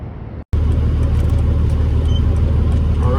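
A Peterbilt 379 truck with a CAT 3406B diesel engine pulling away, a loud steady low engine rumble that follows a brief dropout and continues unbroken.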